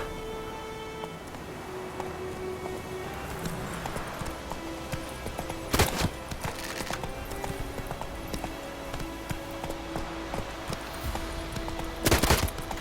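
Hooves of a horse clip-clopping along in The Witcher 3, a steady soft rhythm under game music and ambience, with two sharp loud bursts midway and near the end.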